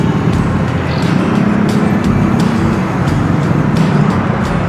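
Road traffic on a busy city road, a loud, continuous rumble of car and bus engines with steady tire roar and occasional passing vehicles, heard close and without talk.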